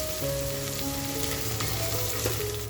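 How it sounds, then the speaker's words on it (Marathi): Onions frying in a pan for mutton biryani, a dense continuous close sizzle with a faint steady hum running beneath it, unbroken for a few seconds and with no voice. "कांद्याबरोबर छान असं फ्राय सुद्धा होईल"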